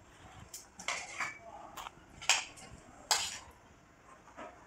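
Food being served onto a plate, with scattered clinks and taps of cutlery against dishes, moderately close and fairly quiet.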